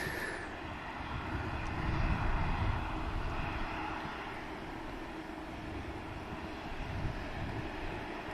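A Boeing 787-9 Dreamliner jet at Manchester Airport sends out a continuous broad engine roar, with a brief high whine at the start and a swell in loudness before it settles to a steady rumble.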